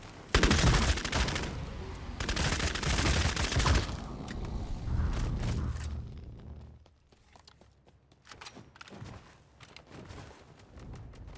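Revolver fire in Bloodhunt cuts through loud, dense combat noise. Sharp separate gunshots and clanks come first, and sparser shots and mechanical clicks follow as the action quiets down.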